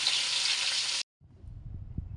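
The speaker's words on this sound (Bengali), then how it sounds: "এবার পানি দিয়ে গোলাই নেব, মাছটা ভেজে নেব।" Spiced fish sizzles loudly in a pan of hot oil for about a second, then cuts off abruptly. A quieter, low rumbling fry with small knocks continues afterward.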